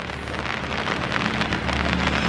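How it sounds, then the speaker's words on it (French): Steady rain patters densely on an umbrella outdoors in a small village, a continuous close hiss of drops with no voices. "Et il pleut bien là."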